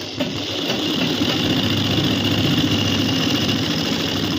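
Sewing machine stitching with a tight bolt and faulty tension, a steady mechanical whirring hum with rapid needle chatter running continuously at close range, no voices.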